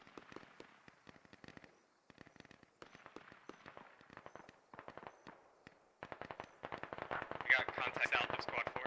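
Squads firing in a military video game battle, rapid crackling gunfire bursts that build from scattered shots to dense heavy volleys, with voices faintly under the shooting.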